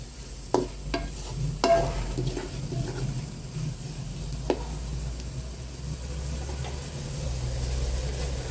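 Banana heart sautéing in a pan gives a low, steady sizzle under a faint hum, broken by a few sharp clicks and scrapes of a stirring utensil early on, with no voices.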